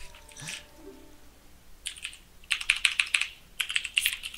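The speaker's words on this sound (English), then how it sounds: "That keyboard." Computer keyboard typing during a Legend of Zelda: Ocarina of Time gaming session, with sparse keystrokes early on, then dense rapid clattering bursts near the microphone, briefly pausing before resuming.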